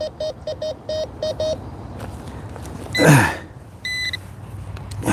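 A Bounty Hunter Tracker metal detector on a morning coin hunt sounds a quick run of short, evenly spaced low target beeps. A sweeping swish follows, then a brief higher steady tone, all close and clear over faint background noise.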